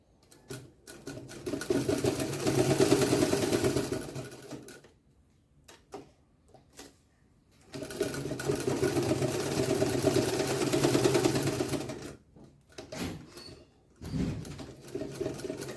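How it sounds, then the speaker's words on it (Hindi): A sewing machine stitches over elastic in two long, steady whirring runs, close and clear, separated by short pauses with small handling clicks. "ये इलास्टिक के ऊपर कुछ इस तरह से सिलाई लगा लेनी है।"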